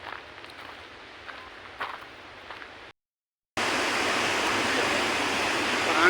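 Water rushes steadily at the Bhima Kunda waterfall in Odisha, a broad constant roar that drops out briefly and then returns much louder and closer.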